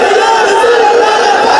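A large crowd of religious followers loudly chants the slogan Labbaik Ya Rasool Allah together, a dense sustained roar of many voices at close range with no pauses.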